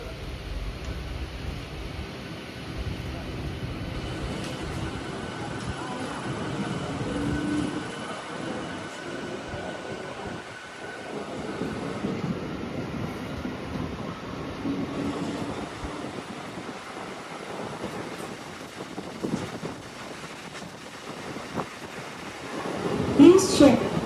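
An MMTS suburban train in Hyderabad rumbles steadily along the track toward a station on the run to Medchal, with rolling wheel noise and swells of clatter heard from inside the carriage, voices talking throughout and a brief squeal near the end.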